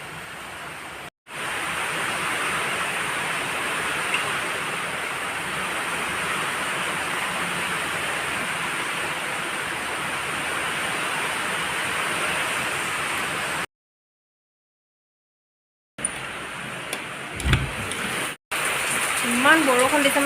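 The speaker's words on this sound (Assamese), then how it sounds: "মই পাকঘৰৰ খিৰিকীখন মেলি দেখাই দিছোঁ কিমান বৰষুণ দি আছে।" Heavy rain pours outside an open kitchen window, a dense, steady hiss that holds for several seconds, breaks off briefly, then resumes with a few nearby knocks.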